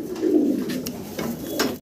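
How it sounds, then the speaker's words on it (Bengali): A pair of Modern pigeons coo close by, with two or three low rolling phrases and brief sharp clicks between them. "চমৎকার কালার কোয়ালিটির এক জোড়া মডার্ন কবুতর"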